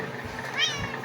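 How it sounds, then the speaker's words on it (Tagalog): A house cat gives a single short meow, close and clear, rising briefly in pitch over a quiet room. "So guys, ang aming pusa."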